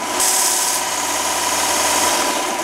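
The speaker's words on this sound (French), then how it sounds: "il suffit de le frotter comme ça, doucement sur l'abrasif" A rubber cleaning stick rubbed against the running abrasive belt of a VEVOR belt and disc sander, giving a loud, steady, rough grinding hiss with the motor's drone beneath.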